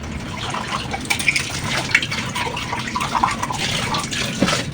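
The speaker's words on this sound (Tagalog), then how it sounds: "Banawan na natin itong mga baso." Tap water gushes steadily while drinking glasses are rinsed during dishwashing, a close, continuous splashing stream with no talking.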